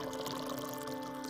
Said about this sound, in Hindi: जल्दी से इसमें पानी भर देता हूँ